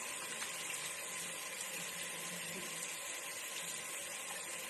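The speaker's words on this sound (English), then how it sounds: "we have to perform hand washing" Steady running tap water pours into a sink during hand washing in a clinical setting, a continuous broadband rush with no pauses.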